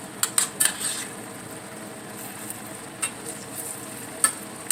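Spoon scraping and stirring cheeseburger mac and cheese in a pan, with a few sharp clinks early on and soft scrapes later over a faint steady sizzle and fan-like hiss.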